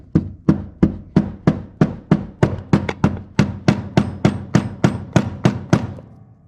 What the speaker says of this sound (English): I like to hold the Planetary gear set and just tap it onto the table, push it through.